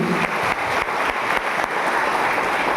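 An audience at a company team meeting claps steadily throughout, producing a dense, even, roomy applause with no talking over it.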